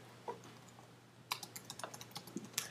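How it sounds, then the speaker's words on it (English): Keys clatter on a Mac computer keyboard in a quiet room, a few isolated taps at first, then a quick irregular burst of close typing strokes. "So we'll start typing"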